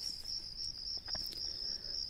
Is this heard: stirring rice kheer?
no